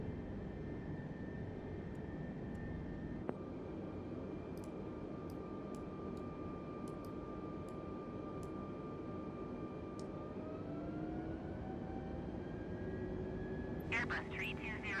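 An Airbus A320 airliner on approach into Vancouver in Microsoft Flight Simulator, a steady jet engine hum with tonal whines that shift in pitch, plus a few brief cockpit clicks and a burst of chatter near the end.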